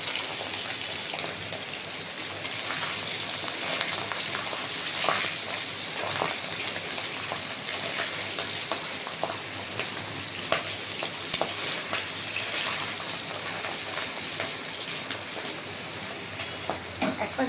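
Pabda fish fry in hot oil in a pan, giving a steady, close sizzle with a crackling, spattering texture that goes on without a break. Faint clicks and scrapes come through now and then.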